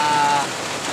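Rain falling on a farm during a wet spell, a steady close hiss of drops filling the whole second with no other sounds.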